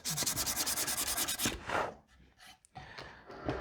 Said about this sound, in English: we can sand a bit.